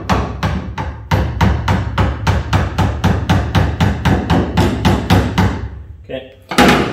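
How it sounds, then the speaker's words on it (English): Sharp metallic hammer taps on a tonneau cover repeat in a quick, even rhythm, about three per second, close and loud, then pause briefly before one more strike. "tapping it with a hammer"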